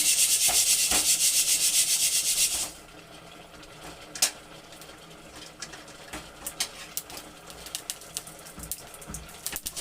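Fenugreek seeds roasting in a dry pan for a pickle: a loud hiss in the first few seconds gives way to faint, irregular crackles and small pops that grow busier toward the end, with no talking.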